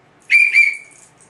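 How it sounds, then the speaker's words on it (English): A lifeguard's whistle sounds two loud, close, shrill blasts in quick succession, the second trailing off, with near silence around them. "2 whistle blows, that means they're trying to get the attention of another lifeguard"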